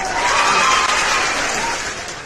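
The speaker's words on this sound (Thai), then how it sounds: "เชียร์แป๊บนึง" A seminar audience cheering and applauding on cue, a loud, close wash of clapping and shouts that swells quickly, holds steady, then slowly tapers off.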